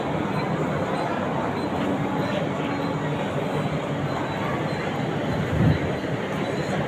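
A Virar to Churchgate fast AC suburban train runs along at a steady pace, its continuous low rumble and rattle heard from inside the carriage, with a faint voice in the background and one brief thump near the end.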